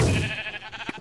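Sheep bleating in the Minecraft video game, a short wavering call that comes through loud and clear at the start, then trails off into quieter game sounds.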